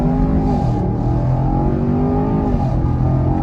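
A 2021 Chevrolet Camaro LT1 on sticky Indy 500 tires launches hard off brake torque, its V8 roaring close and loud as revs climb through two upshifts.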